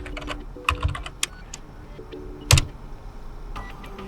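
A command is typed on a computer keyboard: scattered close keystrokes with a couple of louder, sharper presses and short pauses between them, and no voices.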